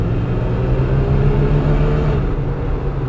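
A 1983 Plymouth Gran Fury's engine is held at full throttle while climbing a hill, a loud, steady low rumble and drone inside the car that stays constant throughout.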